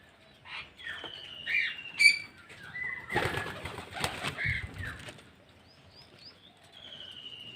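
Pigeons drinking water together, with a loose burst of wing flapping in the middle, scattered chirps and a few soft calls around it, all fairly faint and close.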